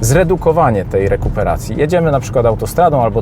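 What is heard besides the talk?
None of the usual background noises is heard.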